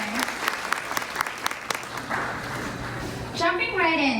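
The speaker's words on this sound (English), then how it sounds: "Let's give a round of applause" Audience applause at a PoshFest 2019 panel session for a group of women inventory sellers, a dense steady patter of clapping from a crowd filling the room, with a voice beginning to speak near the end.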